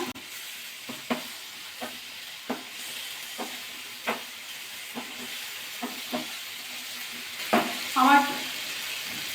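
Spoon stirring dates, dried mango and cashews in a pan of mixed fruit chutney, a series of sharp scraping knocks at irregular intervals over a steady low sizzle, with a louder clatter near the end.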